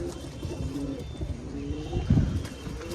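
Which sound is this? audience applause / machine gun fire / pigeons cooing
pigeons cooing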